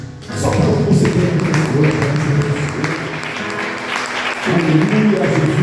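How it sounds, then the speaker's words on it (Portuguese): A church congregation breaks into loud, sustained applause in praise of Jesus during a Portuguese-language sermon, steady clapping filling the room for several seconds with a few voices calling out beneath it. "Aplauda Jesus."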